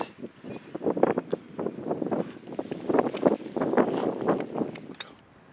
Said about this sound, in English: Just as I said that, the wind just picked up.